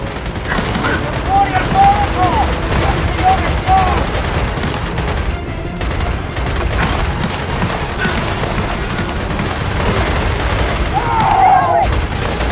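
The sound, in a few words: gunfire in the video game Gears of War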